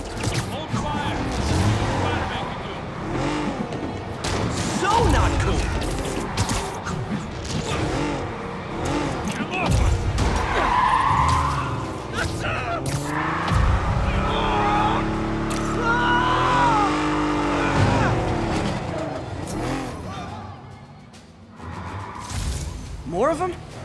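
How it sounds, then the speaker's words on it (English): Vehicle pursuit through city streets in Spider-Man PS5, with engines, tire skids and clattering impacts in a busy, loud mix under frequent dialogue and radio voices. "Attention all units, there's a vehicle pursuit in progress."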